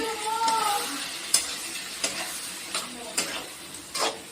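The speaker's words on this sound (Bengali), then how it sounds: "তেলটা ছাড়তে শুরু করেছে, এখনো আরেকটু কষানো হবে" Spice paste sautéing in oil for an egg dish, a soft sizzle underneath with a handful of sharp spatula scrapes and stirring knocks against the pan at irregular intervals, fairly quiet and close.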